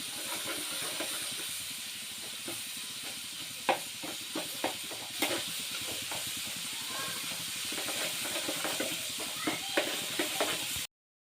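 Garlic paste tempering fries in hot oil for a boiled tomato chutney, a continuous sizzling hiss with scattered sharp crackles and pops that stops abruptly at the end.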